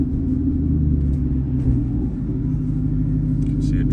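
A Ford F-150 pickup drives along with a deep, steady engine rumble and drone as it downshifts automatically, heard from inside the cab with little variation in loudness, and a voice talks faintly over it.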